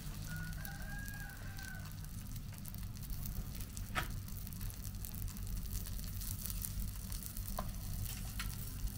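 Sausage frying in a stainless steel PFM40 Swedish mess kit pan outdoors, a steady low sizzle running throughout with a rooster crowing and birds faintly in the background.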